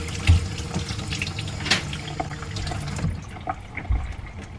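Tap water runs into a kitchen sink as sweet potatoes are rinsed and rubbed under the stream, a close splashing flow with small knocks and handling sounds, quieter after the first few seconds.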